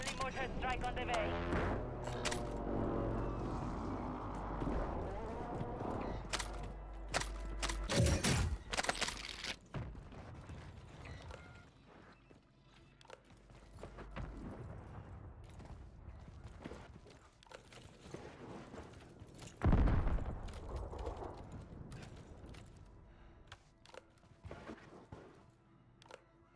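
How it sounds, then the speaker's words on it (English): Mortar strike explosions in a video game: two heavy, booming blasts land about twelve seconds apart amid ongoing battle noise, with voices talking over the action. "Friendly mortar strike on the way."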